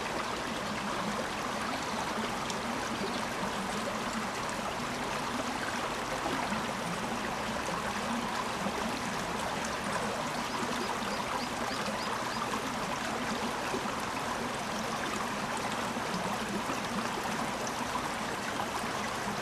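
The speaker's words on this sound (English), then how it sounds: "Here we see the power generating water chute" Water rushes steadily down a power-plant chute along the Nakasendo road near Magome, Japan, a dense, continuous roar of flowing water with no pauses or voices.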